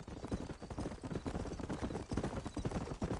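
Steady clip-clop of horse hooves at a trotting pace in the video game Red Dead Redemption, continuous and moderately loud, against a thick wash of background noise.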